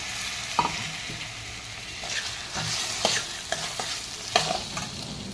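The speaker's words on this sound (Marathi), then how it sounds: "आता चणा डाळीला सुद्धा आपण छान परतून घेऊ" Chana dal and dhemse sizzle steadily while being sautéed in a pan, with a spoon scraping and clinking in irregular strokes over the continuous frying hiss.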